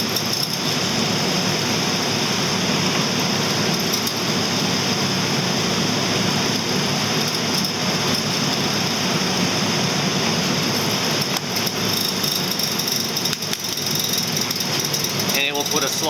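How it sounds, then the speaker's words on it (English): A mortising machine cuts a slot into a wooden board to take a matching tenon. The motor whines steadily and loudly throughout with dense grinding noise, and a voice talks over it. "it will put a slot in the board to accept the tenon on the other board"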